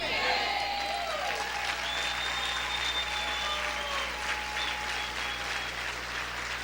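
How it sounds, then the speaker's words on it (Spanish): Sustained, dense applause from a church congregation during a Spanish-language evangelical service, steady and loud throughout with a faint ringing tone held beneath the clapping. "¿Cuántos pueden aplaudir más fuerte al Señor?"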